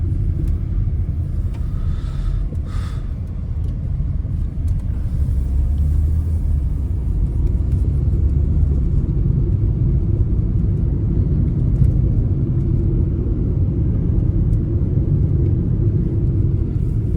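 Low, steady road rumble heard from inside a Renault Megane Touch while driving on winding roads, a constant muffled drone with no talking, only a few faint higher clicks early on.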